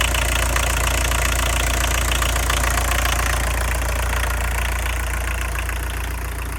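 1983 VW Quantum with a 1.6 liter turbo diesel engine idling, a loud, steady, close clattering rumble that runs unbroken throughout.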